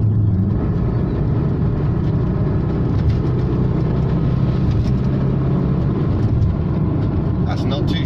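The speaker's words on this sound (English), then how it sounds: "Concentrating enough to overtake a tractor, that means employing the kickdown." Volkswagen T25 Caravelle van engine working hard under kickdown acceleration while overtaking a tractor, a steady loud drone with road and cabin noise throughout, and a voice talking over it.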